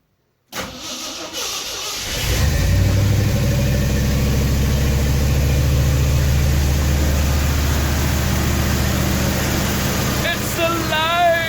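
A hot rod engine, freshly fitted with a reworked carburetor and cooling system, cranks and catches, then runs at a loud, steady, rumbling idle close by, with brief voices over the top near the end.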